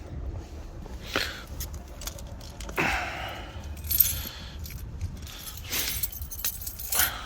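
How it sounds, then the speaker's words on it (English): Car keys jingle and clink as they are set down, a few light metallic rattles and taps scattered over a quiet, low background hum. "I'll put the keys down."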